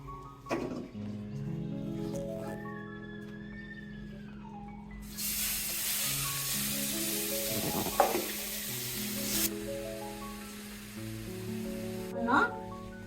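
Dried taro stolons (lati) hit a hot pan and burst into a loud, steady sizzle lasting several seconds before dying back, over soft background music.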